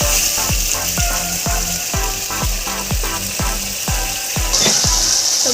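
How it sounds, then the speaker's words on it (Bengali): Spice masala sautéed with a splash of water in a pan for a chholar dal, with steady rhythmic spatula scrapes about twice a second over a continuous soft sizzle, close and fairly loud, no voices. "তো মশলাটা এখনো কষানো চলছে। সামান্য জল দিয়ে আরেকটু কষানো হচ্ছে।"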